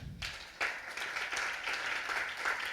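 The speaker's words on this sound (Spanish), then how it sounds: "Dele palmas al Señor." A church congregation clapping for the Lord during a worship service, sustained rhythmic applause from a crowd that carries on steadily throughout.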